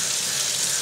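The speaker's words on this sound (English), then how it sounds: "Rinse that out, wring it out" Tap water runs steadily for a moment as a makeup brush is rinsed and wrung out at a sink, a continuous close hiss with no other sounds.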